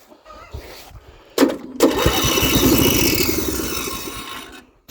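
The small engine of a Toro 12-32 riding mower cranks with a couple of sharp bursts, then catches and runs loud and rough for a few seconds before cutting out, with no talk.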